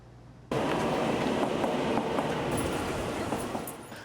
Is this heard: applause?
no